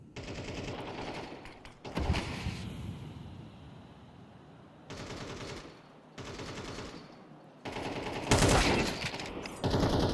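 Bursts of rifle fire from AK-47s in a Counter-Strike match, sharp loud cracks in clustered volleys separated by quieter gaps with ambient game noise, several distinct bursts over the stretch.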